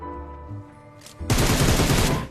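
Gunfire in a battle royale video game breaks out after a quieter in-game tone: a loud, rapid automatic burst lasting about a second at close range, with no talk over it.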